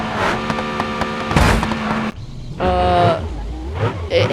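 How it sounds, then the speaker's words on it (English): A car engine in the driving game BeamNG.Drive hums at a steady pitch, then changes tone after a brief dip. Sharp knocks cut in along the way, and the sound stays loud and close throughout. "The car sounds great."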